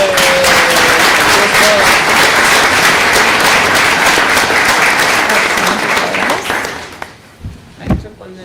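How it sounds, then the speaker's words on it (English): Audience applause for a presenter at a school board meeting, a sustained even wash of clapping that fades out near the end, followed by a couple of thumps like a door or chair. "So applause for Ms. Roth as well."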